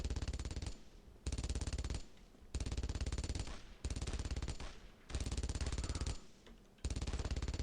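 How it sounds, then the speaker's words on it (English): An MG42 machine gun fires in the World War II video game Brothers in Arms: Road to Hill 30, loud and close in five sustained rapid bursts with short gaps between them, no talking over the fire. "Targeted MG42."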